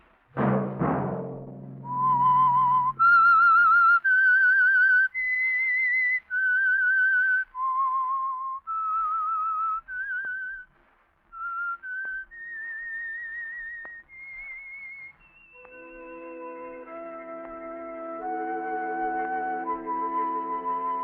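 A lone whistler carries a slow, wavering melody of sustained notes, the theme of the 1947 radio drama The Whistler, then soft instrumental chords join beneath the tune.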